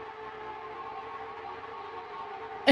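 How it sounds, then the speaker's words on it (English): A siren-like droning tone holds steady at moderate volume, ending in a sudden loud burst of noise at the very end. "Also sounds a little bit like a siren"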